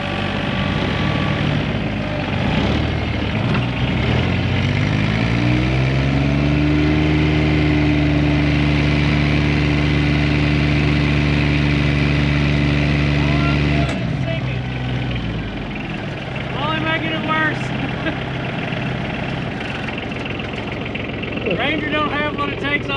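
A Ford Ranger pickup strains to drag a tractor out of a ditch, its engine droning and laboring at steady high revs, then easing off, loud and close with brief talk near the end.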